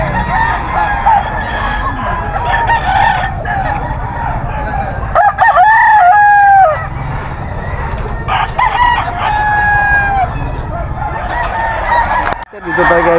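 A talisayin gamecock, a Paul Spark Gray and Gilmore cross, crows loudly and repeatedly in Bocaue, with other roosters crowing and fowl clucking around it. Voices are faintly audible in the background.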